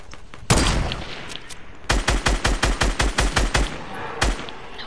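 Gunfire in a PlayStation 4 shooter: one sharp shot, then a steady rapid string of about ten loud evenly spaced shots and a final single crack, close and prominent.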